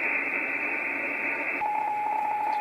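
A radio signal from an Arduino signal generator decoded as upper sideband gives a steady hissing, buzzing tone that changes partway into a warbling, beeping data-like pattern, all at moderate level with no voices.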